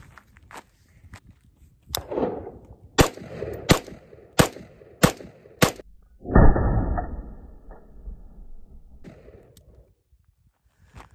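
Five rifle shots from a 10.5-inch barrel fitted with a GFHC muzzle device, sharp loud cracks fired at a steady pace outdoors, followed by a lower rumbling noise and fading echo.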